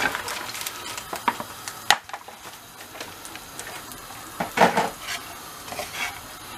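Döner meat is reheated in an oiled frying pan: a soft, steady sizzle is broken by scattered scrapes and metallic clinks of a utensil against the pan, with no talk.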